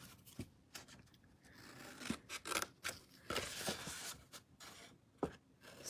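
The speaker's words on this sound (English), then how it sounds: "it's important you cut straight or as straight as possible on those score lines" Scissors snip through a paper treat box along its score lines, a string of sharp close cuts with short pauses between, each making a crisp rasping crunch and no talking.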